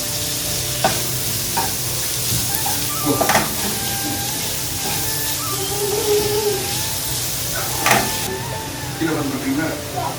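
Whole spices such as cinnamon and cloves fry in a pot for biryani, a constant close sizzle with occasional clinks and scrapes of a spoon against the pot.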